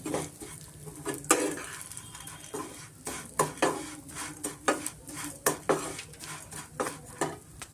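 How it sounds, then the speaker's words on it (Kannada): Vermicelli frying in ghee in a pan for a sweet semolina-style dish, with a steady faint sizzle beneath repeated sharp scrapes and clinks of a metal spoon stirring against the pan, no voices. "ತುಪ್ಪದಲ್ಲಿ ಚೆನ್ನಾಗಿ ಸ್ವಲ್ಪ ಕೆಂಪಗೆ ನಾವು ಶಾವಿಗೆನ ಫ್ರೈ ಮಾಡ್ಕೊಬೇಕಾಗತ್ತೆ"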